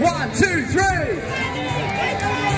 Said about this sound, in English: Let's make some noise on the count of three.